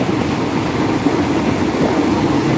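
A passenger train bound for Bangkok in Thailand runs along, heard from inside as a steady broadband rumble and rattle with low mechanical drone, continuous and fairly loud.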